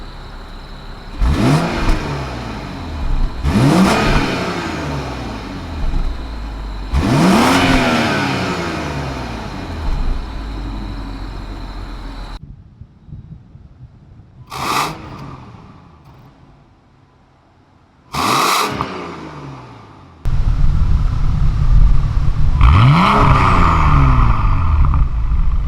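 A BMW F10 535 with a valvetronic exhaust revs repeatedly and loudly, each blip rising and falling in a sharp sweep. Several bursts are split by quiet gaps, and the final stretch has a throatier, fuller roar.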